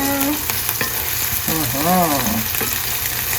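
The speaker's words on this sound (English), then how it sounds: "Now she's gonna mix it like so." A spoon stirs tuna pasta sauce in a hot pan, scraping and clinking over a steady sizzle, with a short whistling squeak rising and falling midway.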